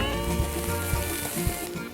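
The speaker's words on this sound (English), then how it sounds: "Time to sweat some onion." Onions sweating in a pan with chillies and garlic for a spaghetti tomato sauce, giving a steady soft sizzle with a few faint knocks.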